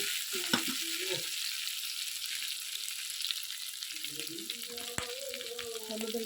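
Prawns frying in a pan with lightly fried onion, alongside fried raw-banana chops: a steady, bright sizzle throughout, with a few soft stirring scrapes and clinks close by.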